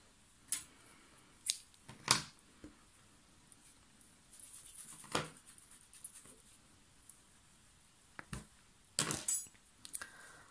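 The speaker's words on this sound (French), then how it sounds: "On va pouvoir couper le fil auxiliaire." Scissors cut waste yarn during the knitting of a baby's butterfly cardigan. Several quiet, crisp snips and rustles come close by at irregular intervals against a near-silent background.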